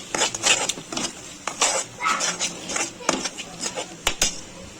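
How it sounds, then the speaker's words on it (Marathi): A spoon clinks and scrapes against a pan as paneer is stirred with shahi masala, red chilli powder and peanut paste. The metallic taps come in quick irregular bursts, close and fairly loud, with only a faint sizzle beneath. "आणि पनीर शाही मसाला मिक्स करून घ्यायचं।"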